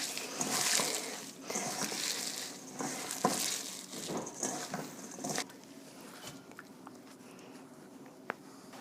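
Garlic, avocado and salt being stirred together in a bowl for a cauliflower rice meal, giving moist, squelchy mixing scrapes in uneven strokes for about five seconds before fading to quiet handling noises.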